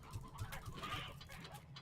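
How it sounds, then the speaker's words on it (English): Chickens clucking in the ranching game Slime Rancher, a soft, steady run of low, muffled clucks and fowl chatter, faint and continuous with no talk over it. "See all the chickens you could want."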